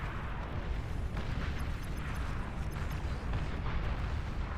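A destroyed enemy commander explodes in the real-time strategy game Beyond All Reason, a dense, rumbling roar of blasts and bursts that holds loud and steady throughout, with no voices.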